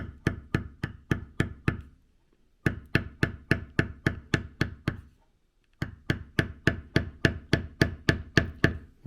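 A leather beveling tool struck repeatedly with a mallet, steady rhythmic knocks in three bursts of about ten blows each with short pauses between, close and crisp.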